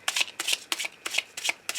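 Oracle cards shuffled for a love reading, a quick regular riffle of crisp papery flicks, close and steady, about five or six bursts in under two seconds with no voice.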